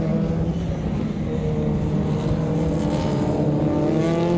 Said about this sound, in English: Hayden Gear in the little wee Mini.